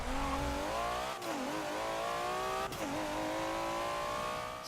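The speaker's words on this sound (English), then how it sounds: "it is all a bit random, seems as it's a full throttle launch in this" A 2012 Nissan GT-R in Forza 7 launches at full throttle down a quarter-mile drag strip, its engine screaming loud and steady, climbing in pitch with two quick dips at the gear shifts.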